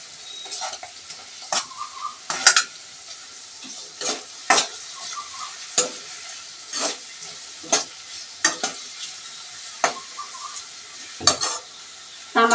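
Tomatoes and onions sauté in a pan for a village-style jackfruit seed curry. Roughly a dozen sharp scraping strokes of a ladle against metal cut through a soft, constant sizzle, close and without speech.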